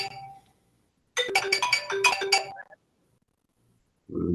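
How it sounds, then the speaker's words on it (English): A mobile phone ringtone plays a short bright melodic phrase in a quiet room, fairly faint, then stops, and a voice starts at the very end. "Somebody's phone's going"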